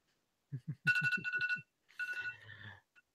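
A mobile phone rings close by, a bright electronic ringtone in a quick run of pulsing tones followed by a second short burst, with low beeps underneath.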